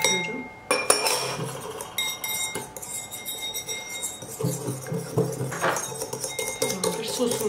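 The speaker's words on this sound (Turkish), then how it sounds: "Şöyle çırpıcıyla çırpıyorum." A whisk clinking quickly against a bowl while beating tomato paste with water and oil into a sauce, with rapid, uneven metallic taps up close and a brief voice in the background.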